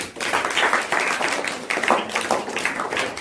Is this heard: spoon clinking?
no